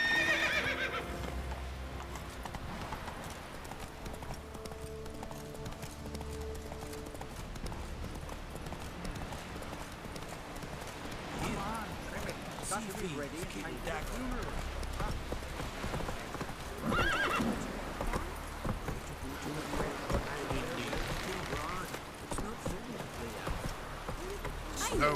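Geralt's horse Roach in The Witcher 3 gallops with steady, rhythmic clip-clop hoofbeats through the whole stretch, a whinny breaking out near the start, over game music and ambience.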